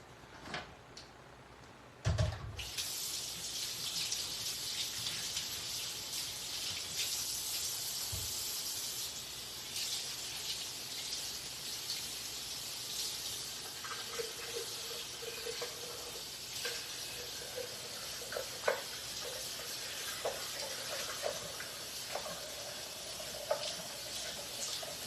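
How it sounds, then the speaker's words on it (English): Tap water runs steadily into a blender jar at a kitchen sink, a sustained hissing rush that starts abruptly after a brief quieter moment and continues with small splashes and clinks for the rest of the time. "give it a rinse, fill it with water"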